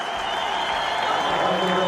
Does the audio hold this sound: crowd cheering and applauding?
yes